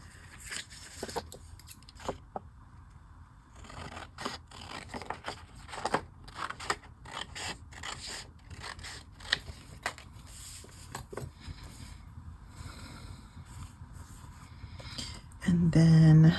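Scissors snip through paper for a reading journal, a series of sharp, close cuts and soft crisp clicks spread across the stretch, irregular in rhythm, with light handling noise and a brief louder rustle at the end.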